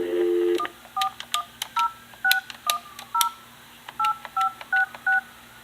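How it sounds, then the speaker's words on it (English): Touch-tone keypad beeps from an office phone line dial a number, a quick series of about fifteen short, clear tones in an uneven rhythm after a brief initial tone. "I'm going to call my phone"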